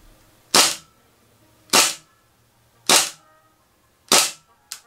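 A KJW Hi-Capa gas blowback airsoft pistol fires four crisp, close shots at a slow even pace, each a sharp snap with a brief decay, followed by a quicker fifth one in a quiet room.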